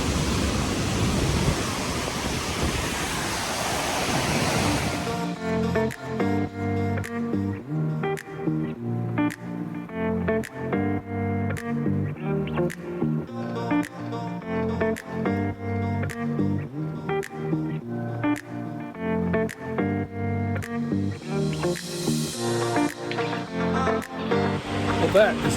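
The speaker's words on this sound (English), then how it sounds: "that is definitely one of the coolest waterfalls I've seen. Look how it cascades down from so many levels." A multi-level waterfall in Sequoia and Kings Canyon National Parks roars as a steady broadband rush for the first few seconds, then gives way to rhythmic music that dominates the rest.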